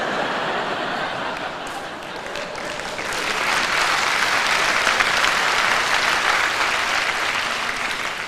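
Audience applause and light laughter at a live comedy concert, a dense, continuous wash of clapping from a large crowd that swells partway through and holds steady for several seconds.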